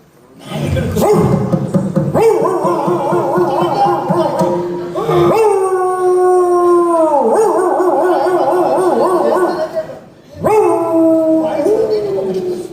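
A yakshagana comic performer on stage imitates a dog with his voice, drawing out long wavering howls and whimpering yips in several loud close bursts separated by brief pauses.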